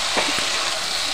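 Prawns and taro stolons stirred in a pan with no water added, a dense, continuous sizzle broken by a couple of short scraping strokes near the start.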